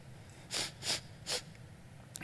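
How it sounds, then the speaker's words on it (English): Three short, faint sniffs come in quick succession, each a soft airy burst through the nose, followed by a tiny fourth catch near the end against quiet room hiss. "And a little sniffle here."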